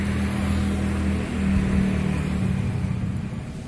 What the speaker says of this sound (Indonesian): aku lagi numpak pemadam kebakaran